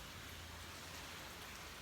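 Steady rain pours down on a wet South Florida day, a dense, even hiss of drops on surfaces that continues unbroken at moderate volume with no voices.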